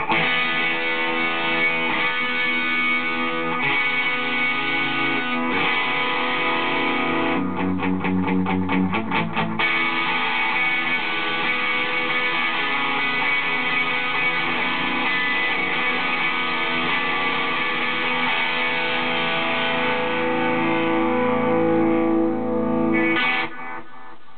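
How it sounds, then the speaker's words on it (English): An electric guitar runs through delay pedals, with a Crunchbox distortion pedal switched out, playing a saturated, delayed rhythm of sustained chords and repeating echoes, loud and alone. "you can kind of take the Crunchbox out, and you get kind of a saturated, delayed rhythm"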